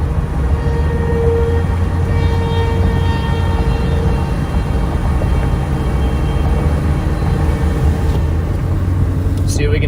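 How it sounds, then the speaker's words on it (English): Sirens wail over a steady road and engine rumble while storm chasers drive toward a shelf cloud, a sustained tonal wail running through the noise with faint talk. "Sirens are ripping."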